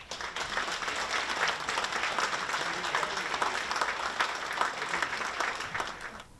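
Audience applause at an annual dinner, a dense, steady wash of many hands clapping that carries through the whole stretch at even strength, close and fairly loud.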